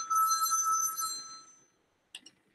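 A telephone rings with a bright electronic trill that sustains for over a second and then fades, followed by a short second burst of ringing, close and clear with no voices.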